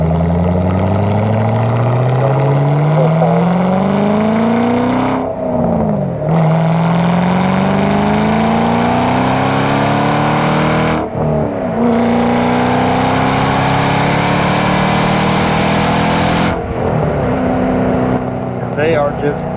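A 2007 Ford Mustang Shelby GT500's engine revs up loudly under throttle in repeated rising pulls, each climbing in pitch before a brief drop for a gear change, with faint talk underneath.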